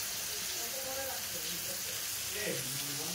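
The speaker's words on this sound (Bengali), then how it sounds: "আর এদিকে দেখো চিংড়ি মাছটা আমি ভাজা করতে বসিয়েছি" Prawns fry in a pan with a faint, steady sizzle and hiss that continues evenly throughout without a break.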